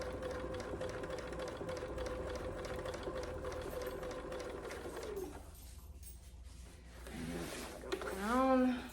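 Sewing machine stitching a second pass around a small fabric bird-shaped bag, a steady mechanical whirr running for about five seconds, then stopping, with a brief restart and a rising whine near the end.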